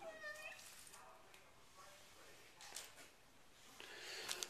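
A cat meows in a few short, tonal cries near the start, with softer rustling and shuffling noises carrying on through the rest of the moment.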